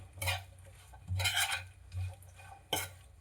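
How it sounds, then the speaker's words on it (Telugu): Spicy broad bean pickle mixture being stirred, several separate scraping strokes of a spoon against a vessel, close and moderately loud, with short pauses between them. "ఇలా అయిపోయిన తర్వాత ఈ మిశ్రమాన్ని మంచిగా కలుపుకోవాలి"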